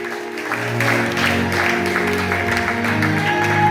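A church congregation bursts into sustained applause and cheering for Jesus Christ during a worship service, loud and steady throughout with tonal music ringing underneath.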